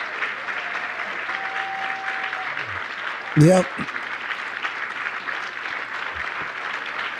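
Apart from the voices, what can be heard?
audience applause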